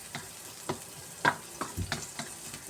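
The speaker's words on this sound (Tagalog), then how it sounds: "gigisa natin yung sibuyas at saka bawang" Onion and garlic sauté in a pan for pancit bihon, a low steady sizzle broken by several sharp spatula scrapes and taps, close and fairly quiet.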